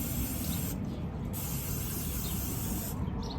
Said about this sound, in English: So I'm just gonna give this a quick spray again.